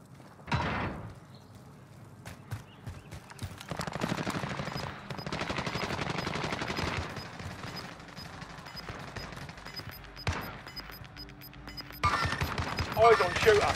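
Automatic gunfire from Call of Duty Warzone Resurgence, with bursts and sustained volleys rattling through busy game action and occasional bangs, fairly loud and nearly continuous.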